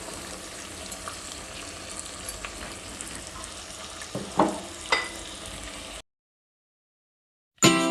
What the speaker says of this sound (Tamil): இந்த வெங்காயம் வதங்கிட்டு இருக்கட்டும்